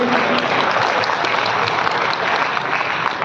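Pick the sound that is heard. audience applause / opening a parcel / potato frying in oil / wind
audience applause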